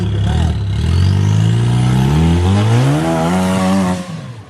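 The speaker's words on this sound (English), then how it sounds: "Caleb's going to go to the throttle on here." A rock crawler's engine revs hard on the throttle, its pitch climbing steadily as it strains up a rocky ledge on an off-road trail, loud and close, then easing off.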